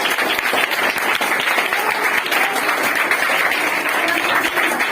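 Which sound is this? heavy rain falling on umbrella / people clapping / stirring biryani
people clapping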